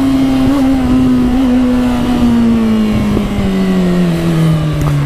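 A Suzuki GSX650F inline-four motorcycle engine revs steadily while riding, a loud, continuous high-pitched whine that slowly drops in pitch, with wind noise and no talking.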